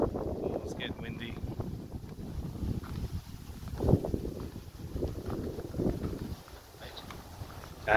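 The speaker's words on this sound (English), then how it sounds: "Oh, it's getting windy." Gusty wind buffets the microphone outdoors in a cemetery, a constant low roar rising and falling in waves, with people talking quietly beneath it.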